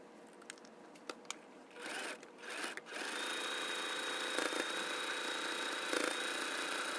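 A sewing machine stitches quilt patches for a nine-patch block, starting with a few clicks and short bursts, then running in a steady, even whir to the end.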